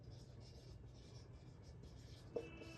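A pen moves steadily over paper, hand-writing Sanskrit grammar notes. The scratching is soft and continuous in short strokes, faint and close, with one small tap near the end.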